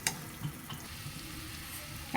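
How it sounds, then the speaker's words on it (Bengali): Semolina halwa fries in a pan under a spoon's stirring, a soft, faint sizzle with light scraping clicks and taps, no voices. "ভালো করে এটা নাড়তে হবে। অনেকক্ষণ ভাজবো এই হালুয়াটাকে"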